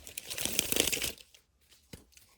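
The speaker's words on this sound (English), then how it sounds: "I'm going to give it a good shuffle." Tarot cards are shuffled by hand in a quick burst of papery riffling and crinkling, followed by a few soft taps and slides as the deck settles, close and fairly quiet.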